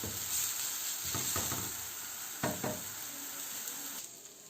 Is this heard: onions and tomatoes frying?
yes